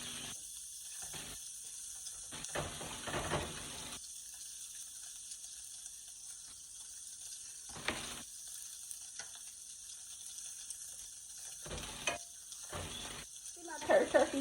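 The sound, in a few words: turkey kielbasa frying in a pan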